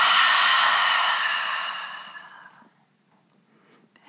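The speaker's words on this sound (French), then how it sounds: "expiration bouche ouverte" One long, loud open-mouthed exhale during a guided sophrology relaxation breathing exercise, a breathy rush close by that fades away over a couple of seconds into near silence.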